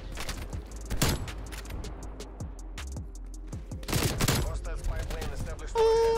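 Sharp sniper rifle shots and other gunfire crack through a Call of Duty Cold War match, a few loud reports spread across the span with mechanical clicks and game effects between them.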